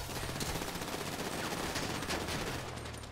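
Gunfire in GTA 5 Online fills the scene with a dense, continuous burst of rapid shots, loud and close, which holds steady for several seconds.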